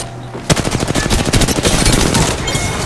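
Rapid automatic gunfire in Apex Legends, a loud sustained burst of closely spaced shots erupting after a brief quiet moment.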